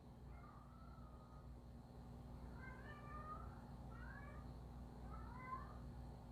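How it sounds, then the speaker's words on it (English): A pet cat meows faintly from another room, several short plaintive cries in a row against a quiet indoor hum. "I hear Betsy meowing."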